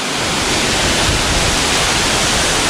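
Jumog waterfall on the slopes of Mount Lawu in Karanganyar pours in a dense, continuous roar of falling water, loud and close with an even, unbroken rush.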